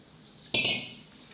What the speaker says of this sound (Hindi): मैं हनी मिक्स कर रही हूँ, और थोड़े से अमाउंट में मिल्क मिक्स कर रही हूँ